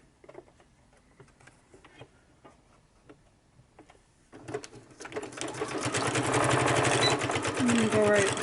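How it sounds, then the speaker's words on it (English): A domestic sewing machine runs a zigzag stitch, starting with a few slow, separate mechanical ticks and then speeding up into a loud, continuous whirring rattle that fills the second half. "So I'm going to do a zigzag and go right down here."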